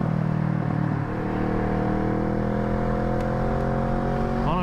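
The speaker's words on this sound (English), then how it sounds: "Oh, traffic, dude." Steady motorcycle engine drone while riding through road traffic at low light, a continuous rumbling hum with slight pitch shifts as the bike moves.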